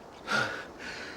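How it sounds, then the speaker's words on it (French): A man in a French-dubbed drama gasps, out of breath after a snowball fight, giving two short heavy breaths close to the microphone with no talking. "Je suis un peu essoufflé."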